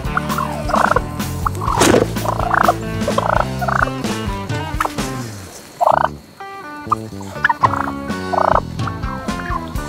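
Several wild turkey gobblers gobbling outdoors, repeated loud rattling gobbles overlapping in bursts, fairly close and continuing throughout with brief quieter gaps.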